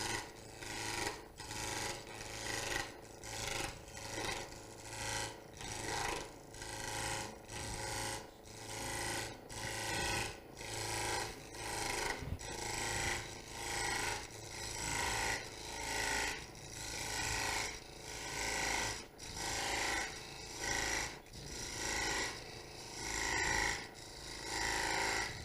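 A saw cuts a kerf in wood on a multi-axis turned piece, producing steady rhythmic rasping strokes, roughly one per second, close and even, continuing alone throughout.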